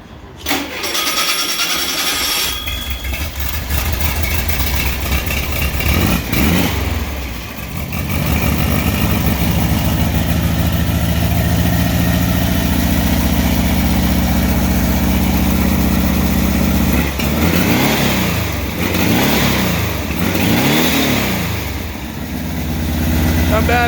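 An air-cooled VW 1600 single-port engine on a warm-up cycle, idling with a steady low rumble, then revving up several times in rising and falling surges, loud and close, with a person talking over it at times.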